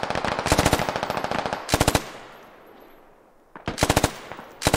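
Automatic gunfire from the military shooter game Squad sounds in three rapid bursts, loud and close. The bursts are separated by a quieter stretch with a fading echo.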